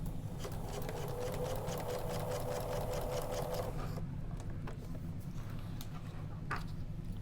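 A sewing machine stitches a paper-pieced quilt block from seam allowance to seam allowance, a rapid, even needle rhythm for about four seconds before stopping, with quieter handling noises after.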